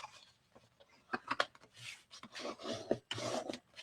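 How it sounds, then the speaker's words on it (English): Paper card being folded and burnished for a stamped box: soft, close rubbing and scraping strokes in short irregular bursts, with quiet pauses between them. "let's go ahead and fold and burnish"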